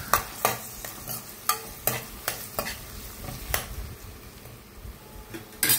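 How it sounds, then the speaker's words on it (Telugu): Finely cut onion pieces fry in a pan for a Telugu-style chicken curry, a soft steady sizzle punctuated by sharp scraping stirs of a spoon against the pan, close by, with no one talking. "ఉల్లిపాయ ముక్కలు వేగిన తర్వాత అందులో మనం సన్నగా కట్ చేసి పెట్టుకున్న ఉల్లిపాయ ముక్కలు వేసుకోవాలి."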